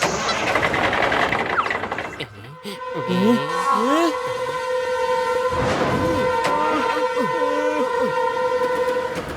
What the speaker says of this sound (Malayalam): ആ വരുന്ന ട്രെയിൻ ഒന്ന് നിർത്തു